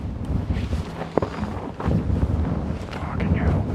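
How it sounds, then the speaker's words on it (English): Gusty outdoor wind buffets the microphone in heavy low rumbles and bursts, loud and uneven throughout, with a sharp knock partway through. "Oh, why has it got to be so windy?"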